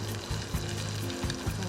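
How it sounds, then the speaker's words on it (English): Steady, close sizzling of white onions frying in hot olive oil, a dense crackling hiss with faint low hum beneath, no voices. "I love that sizzle."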